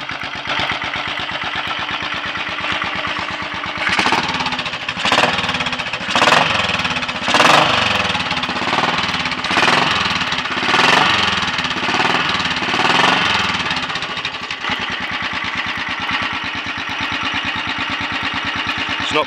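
A tuned Royal Enfield 500 single-cylinder motorcycle engine runs steadily close by, its thumping idle rising into a series of sharp throttle blips before settling back to an even, loud tick-over.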